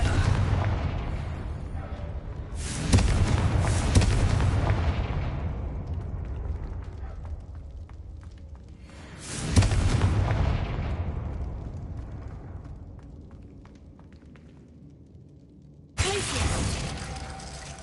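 Three loud Confringo spell explosions in Hogwarts Legacy, each a sharp broadband blast with a long rumbling decay, spaced several seconds apart, the last one cut short.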